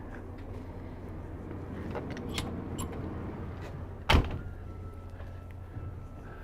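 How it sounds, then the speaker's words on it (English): The entry door of a 2023 Newmar King Aire 4521 motorhome swings shut, a sharp single slam near the end after some rattling and handling noises close by. "I'm going to go ahead and shut that door"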